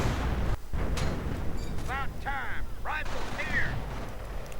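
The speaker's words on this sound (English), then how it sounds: "more response fire from the Germans." Gunfire and artillery from German forces in a real-time strategy war game, sounding as steady dense battle noise with booming impacts, plus short rising and falling whistle-like effects in the middle of the clip.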